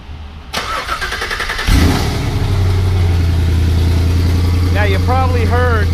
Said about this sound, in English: Cal, let's start up one of these LT4s, let them hear what it sounds like